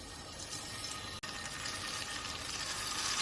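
Chopped bacon frying in oil in a pan for a broccoli and bacon stir-fry, a dense continuous sizzle and crackle, close and steady, with one brief dropout and no talking.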